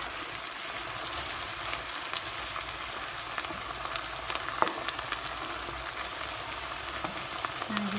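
Tomatoes and mixed vegetables sauté in a pan for Turkish rice, giving a steady close sizzle and frying hiss with faint stirring clinks, heard alone.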